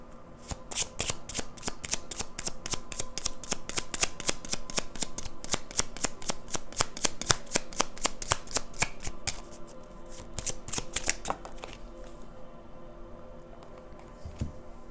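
Tarot cards are shuffled in a fast, steady run of crisp riffling flicks for about nine seconds, then a few slower card snaps and slides as one card is drawn, close and alone with no talking.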